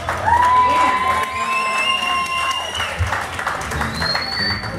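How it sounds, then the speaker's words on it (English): A crowd clapping and cheering for a performer named Lucy before a musical number, loud applause with high whistles and whoops over it, fading a little midway before another whistle near the end. "So give her a big fat round of applause."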